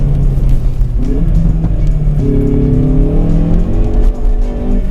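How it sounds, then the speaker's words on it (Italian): Hyundai i30N hot hatch in N mode revving hard near 7000 rpm as the tyres squeal and spin on a low-grip surface, with rising tonal engine notes and a loud, close, continuous squeal. "Un po' di pattinamento, sì."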